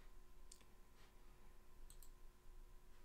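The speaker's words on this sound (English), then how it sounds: "Click once, click twice, no line." Computer mouse clicks while graphing data at a desk: a few faint, sharp clicks in two quick pairs, quiet and close, with no other sounds.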